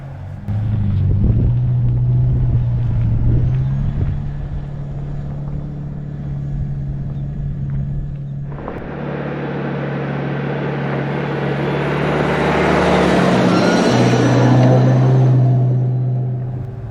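A 2024 Toyota Tacoma TRD Pro crawls off-road in 4 low. Its steady engine drone sits close and loud, then a broader rushing roar from the tires and body over rough ground joins it partway through.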